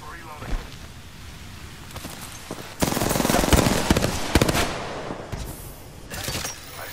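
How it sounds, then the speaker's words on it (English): Game gunfire crackles in uneven bursts, with scattered single shots early, then a loud, dense stretch of rapid automatic fire, tapering into sporadic pops and a final burst, with voices audible underneath. "I got shot at."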